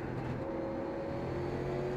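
Late model race cars circle the track at Lanier in iRacing, their engines giving a steady, droning roar with a faint sustained whine and no voices.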